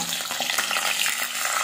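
Thickly cut green chillies crackle in hot oil while cooking boondi kadhi, a brief close sizzle with soft spattering pops, no voices.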